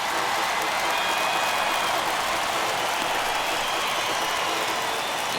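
A large crowd at a simulated MLB baseball stadium in MLB The Show 21 rises and cheers, heard as a steady, broad roar of applause and crowd noise throughout, fairly distant and even in loudness.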